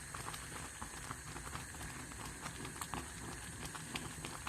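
Finger millet porridge boils gently in a pot, giving a faint, continuous soft bubbling and popping patter heard up close.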